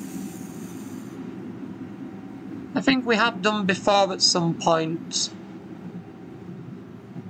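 A Blackpool Balloon tram in Train Sim World 2021 gives a steady low rumble and hum throughout, with someone talking over it partway through.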